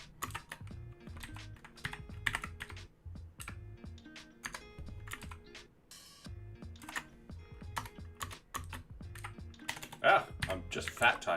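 Fast typing on a computer keyboard during web development work, a dense, continuous stream of close, crisp key clicks with brief pauses, while someone talks intermittently over it.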